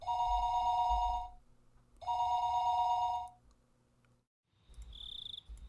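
A telephone rings in the Higurashi When They Cry video game: two long electronic ring bursts, each about a second and a half, with a pause between, followed by a shorter high tone, no talking.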